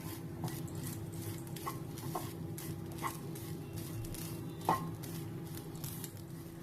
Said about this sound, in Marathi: हा नारळ अगदी व्यवस्थित परतून घ्यायचा आहे थोडासा रंग बदलेपर्यंत परतून घ्यायचा आहे